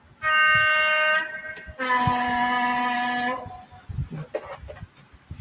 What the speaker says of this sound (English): The horns work with the sound turned off.